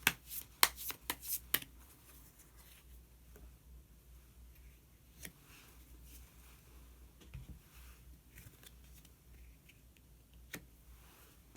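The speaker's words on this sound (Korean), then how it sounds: "마지막으로 히든 카드 한 장 더 뽑아보도록 하겠습니다" Tarot cards are shuffled in a brief burst of close, crisp flutters and slaps at the start, followed by long quiet stretches with only occasional soft taps as a card is drawn.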